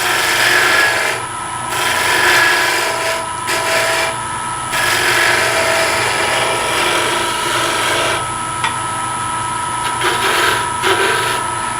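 Spindle roughing gouge cutting a curved furniture part on a wood lathe, a continuous loud rough rushing scrape with brief dips as the tool lifts and re-engages, steady motor hum beneath.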